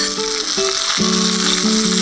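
Chopped onions and coriander sizzle and crackle loudly in a hot pan, a dense continuous frying hiss with short tonal scrapes as the mix is stirred, no voices.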